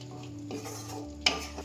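Ground spices with turmeric and a little water stirred and sautéed in a pan for vegetable dal, with soft sizzling, a steady scrape of a utensil and one sharp clink against the pan.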